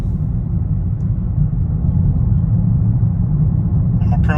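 A Toyota Corolla Hybrid accelerates uphill, its engine giving a steady low rumble of road and motor noise that holds loud and continuous throughout, with a few brief faint clicks near the end.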